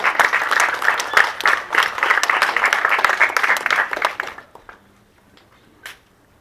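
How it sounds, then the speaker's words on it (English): A public audience at the Belize Museum bursts into dense, lively applause that holds steady for about four seconds, then thins out into a few scattered claps with a short lone burst near the end. "Give him a round of applause,"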